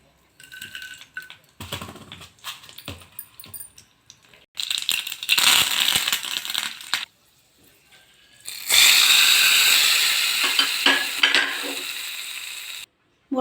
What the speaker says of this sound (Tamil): கொஞ்சமாக கடுகு போட்டுக்கலாம்